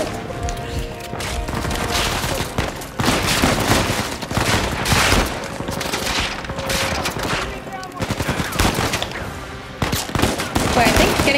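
Gunfire in Uncharted 4: A Thief's End, rapid loud bursts of automatic shots and impacts crowding together in a dense firefight, with brief lulls between volleys.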